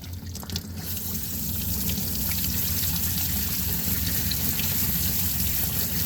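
Running water pours steadily over tumbled agate stones being rinsed after a second polishing stage, a continuous close splashing rush with some clatter at the start before settling into an even flow.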